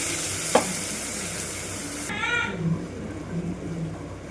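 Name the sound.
sautéing cumin, onion and green chili in a pan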